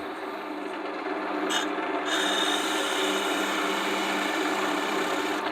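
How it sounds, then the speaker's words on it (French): A European hand saw cuts through wood in a woodturning shop, making a continuous, loud, close rasping with steady grating strokes and no speech. "je vais prendre une scie"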